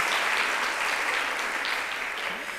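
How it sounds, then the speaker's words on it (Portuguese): Audience applause at a talk for teachers at MASP, São Paulo, on Afro-Atlantic histories and arts in the school curriculum; dense, steady clapping from a crowd fills the whole stretch at an even level. "Já bateram as palmas."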